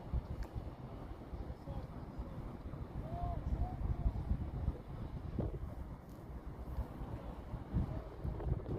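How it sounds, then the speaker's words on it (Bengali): Strong hot wind carrying sand roars steadily as a low, continuous buffeting rumble against the microphone, with a voice faintly present underneath. "প্রচণ্ড বালু উত্তপ্ত বালু বাতাস দিয়ে আসতেছে।"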